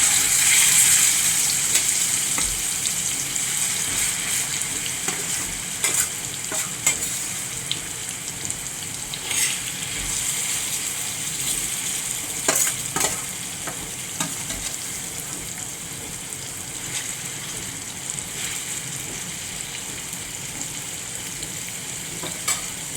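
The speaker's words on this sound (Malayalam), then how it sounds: "ഇനി നമുക്ക് കൊഴുവ നെത്തോലി വറുക്കാൻ." Anchovies fry in hot coconut oil for an Indian-style pickle, a steady, close hiss and crackle running throughout, with scattered sharper pops and stirring clicks.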